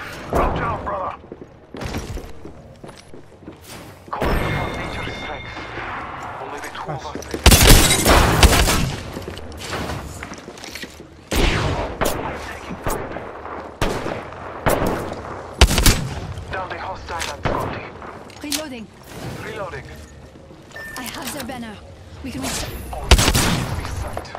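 Rapid bursts of game gunfire in Apex Legends, mixing shotgun blasts and sniper shots, crack out repeatedly at close range in irregular volleys, with players talking and calling out under the shooting.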